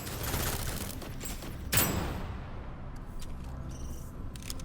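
An SMG fires a short burst in a shooter video game, one sharp loud crack standing out above a dense, busy layer of game noise and background effects, with no talking.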